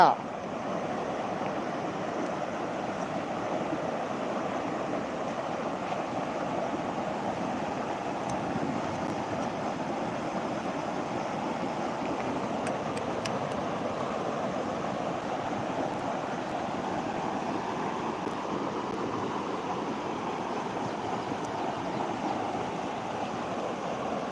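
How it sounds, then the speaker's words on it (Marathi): A river in flood carries a heavy volume of rushing water. A continuous, broadband roar holds steady and fairly loud for the whole stretch with no pauses. "नदीला खूप पाणी आलेलं आहे"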